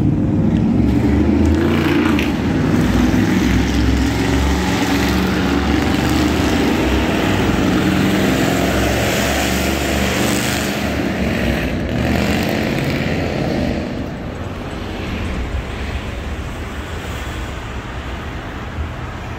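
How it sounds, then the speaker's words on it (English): Lifted stance trucks roar past on a road beside a pedestrian, a loud, broad rumbling engine and exhaust racket that swells and then eases off as they move away, with no talk. "Stance trucks are awesome, aren't they? That's what all that racket was that just passed by."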